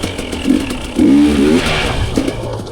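A dirt bike engine revs in short bursts in first gear while the rider pulls the front up for a wheelie, close and fairly loud, with a clattering mechanical edge and no talking.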